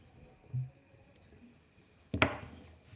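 A wooden frog percussion instrument is struck and scraped, giving a soft knock and then a sharp, brighter rasp about a second and a half later, close and alone.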